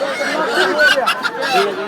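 At the Putia village poultry market, ducks keep up loud, nasal honking calls close by, overlapping in a dense, continuous stretch.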